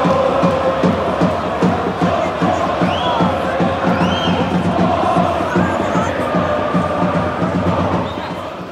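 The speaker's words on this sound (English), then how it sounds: "you can hear it from the Hawthorns crowd" A football crowd at The Hawthorns during a West Bromwich Albion home match against Reading keeps up a steady roar of chanting and noise, loud and continuous throughout.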